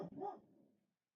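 A household dog gives one short, quiet bark or gruff growl-bark that fades out within a second, with no talk over it.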